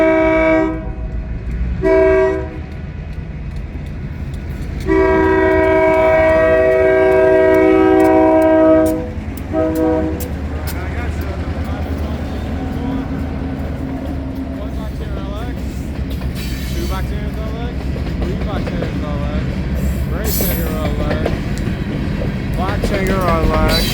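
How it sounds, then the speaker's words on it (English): A train passing close by with loud, long horn blasts early on, then rolling cars clattering steadily for the rest of the time, with a voice talking over the noise. "we have a train coming right"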